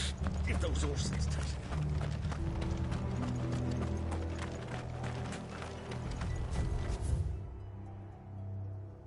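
Horse hooves clip-clopping at a steady walking rhythm in Final Fantasy 16, fairly close and continuous, mixed with mechanical creaks and low game ambience before cutting to quieter background near the end.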